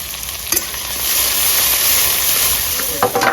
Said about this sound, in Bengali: দিয়ে দেবো গোটা জিরে শুকনো লঙ্কা দিয়ে দেবো কেটে রাখা পেঁয়াজ